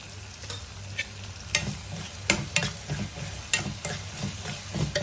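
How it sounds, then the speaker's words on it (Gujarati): A spoon stirs onion and tomato with salt in a sizzling pan, its scrapes and taps landing in a loose, repeated rhythm over a low frying hiss, close up and with no speech. "હવે આ બધું આપણે સરસ મિક્સ કરી દઈશું તો આ ડુંગળી ને ટામેટું સરસ ચડી જાય એ માટે થઈને આપણે મીઠું નાખીશું"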